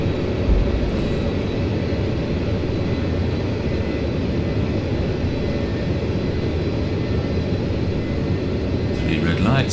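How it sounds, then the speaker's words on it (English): Aircraft engine at full power with landing gear retracting, a loud steady broadband roar filling the cabin, close and constant, with a brief higher mechanical whir near the end and a voice speaking over it. "Lights out, undercarriage is up. Select full power."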